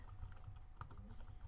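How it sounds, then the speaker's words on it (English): Quiet, rapid typing on a computer keyboard, soft irregular key clicks close by with no voices. "you could type something, so I could start typing"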